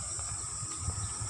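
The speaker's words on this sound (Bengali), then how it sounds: "ঝিঝি পোকার শব্দ হচ্ছে এখানে।" A brief stretch of steady, shrill cricket chirping fills the quiet, tree-lined Jahangirnagar university campus. The drone is continuous and fairly soft, with a faint low rumble beneath.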